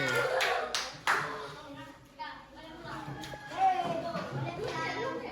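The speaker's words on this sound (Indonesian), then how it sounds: "Yeay, tepuk tangan dulu." Elementary schoolchildren clap together in a classroom, a few sharp bursts of clapping among excited children's voices and chatter, close and lively.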